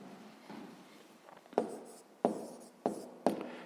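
Pen or chalk writing by hand during a fifth-grade math lesson, a soft scratching stroke followed by four sharp taps or strokes in irregular succession, close and fairly quiet, with no talk.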